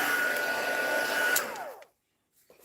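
A handheld heat tool blows a steady, close whooshing hum over freshly stamped ink, then is switched off and winds down to silence, followed by a faint small tap.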